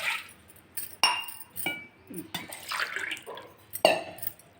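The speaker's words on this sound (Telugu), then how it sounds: "నీళ్ళు పోయాలి." Water poured into a cooking pot for boiling black gram for kudumulu, heard as splashes and clinks of vessels in a few close, separate bursts, with no talking.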